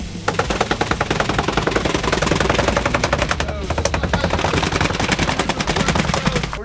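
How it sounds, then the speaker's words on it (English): Tuna tails slapping and tapping inside a cooler on a fishing boat during tuna chunking, a loud, rapid, continuous train of sharp knocks over engine rumble. "You hear the tuna tails tapping in the cooler."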